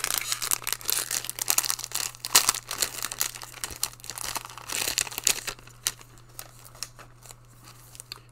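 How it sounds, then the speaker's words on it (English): Crinkly plastic wrappers of sports card value packs being torn open and crumpled up close, a steady run of crackling rips and rustles that thins out toward the end. "So now let's get into these value packs"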